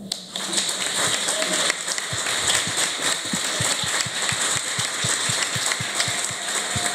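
Applause for a woman organizer at a seminar, a steady wash of clapping through the whole stretch with low rhythmic thumps underneath.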